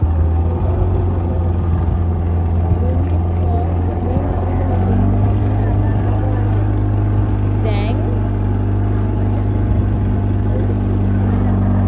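A motorboat runs on a boat ride along the Bentara river, a loud steady engine drone with a low hum throughout, and people talk over it.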